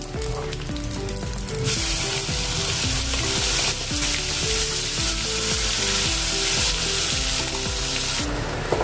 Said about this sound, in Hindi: अभी इसमें डालेंगे राई आधा चम्मच और आधा चम्मच जीरा।